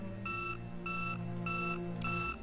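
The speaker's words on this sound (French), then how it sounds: "Ici, on entend une alarme sonner." An alarm in the zombie survival game Project Zomboid gives four regular bright electronic beeps at a steady rhythm, each about a third of a second long, over a constant low background hum.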